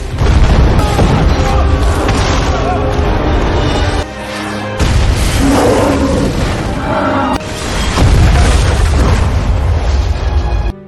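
Repeated heavy booms of cannon fire and explosions rumble continuously and loudly, with a brief lull in the middle, mixed with dramatic sound effects.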